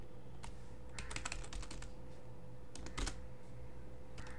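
Someone types a short Python command on a computer keyboard, with quick bursts of crisp key clicks separated by brief pauses, close and fairly quiet over a low hum.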